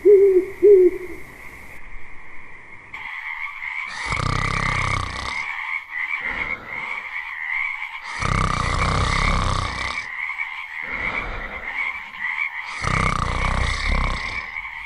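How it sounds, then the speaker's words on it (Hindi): Frogs croak in steady, continuous chorus through the night, with repeated louder rhythmic bursts of croaking rising and falling. "इन मेंढकों ने तो हद ही कर दी। कितना शोर मचा रहे हैं।"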